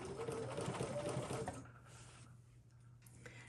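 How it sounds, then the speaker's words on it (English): Sewing machine stitching a few securing stitches while quilting a flower motif, a close, quick mechanical whir for about a second and a half before stopping, leaving quiet room noise. "I'm just going to pull up my bobbin thread here and take a few stitches to secure it"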